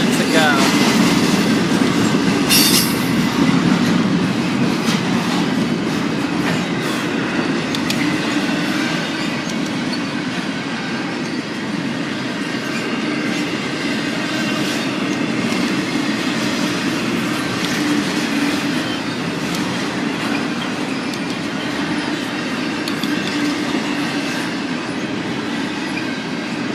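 A northbound Norfolk Southern freight train passes on double track, its wheels and cars giving a loud, continuous rumble with clicking and occasional squeals that hold steady throughout, with speech at times underneath.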